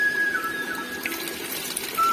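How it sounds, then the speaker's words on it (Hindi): Cold spring water running steadily from a spout at a hillside water source in a Pahadi village, a continuous broadband splashing rush with a faint whistling tone, heard alone at moderate level. "यहाँ पे है बिल्कुल ठंडा शीतल जल"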